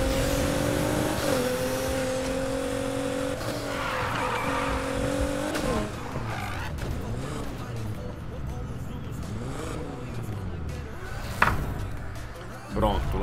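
A car in Need for Speed Heat drives hard, its engine drone shifting pitch before long tire squeals and skidding take over, loud and continuous, with someone talking over it.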